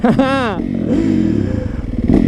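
A motorcycle engine revs up sharply, then settles into a loud, throbbing idle before a final blip.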